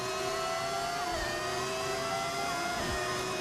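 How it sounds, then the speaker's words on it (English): An F1 car with a modded V10 engine in the F1 25 racing game screams at high revs, with a loud, tonal engine note that shifts pitch with gear changes and stays continuous throughout. "I'm using a mod that gives it a V10 engine. And yeah, it sounds amazing."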